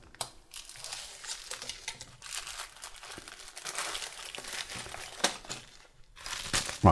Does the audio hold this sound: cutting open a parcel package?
yes